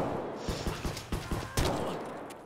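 Rapid bursts of gunfire crack out in Escape from Tarkov, several close, loud shots in an uneven rhythm, followed by a heavier volley trailing into a reverberant tail.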